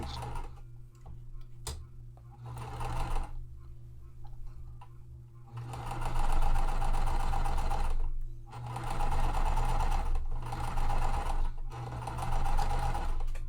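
A sewing machine stitches quilt fabric pieces together in steady bursts of fast, rhythmic ticking and whirring, pausing briefly between runs, close and clear throughout.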